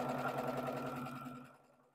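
A sewing machine stitches a quilt seam with a close, rapid mechanical whir and chatter that holds steady, then slows and fades out as the run ends.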